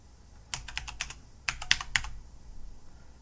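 Keys tapped on a computer keyboard to enter a password: two quick bursts of close, crisp clicks separated by a short pause, with no other sound.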